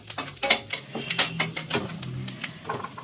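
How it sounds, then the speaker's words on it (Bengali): Whole garam masala spices, including mace, are stirred in a cooking pot with a utensil, making a brief flurry of close metallic clinks and scrapes. "এবার একটু নাড়াচাড়া করে নেব।"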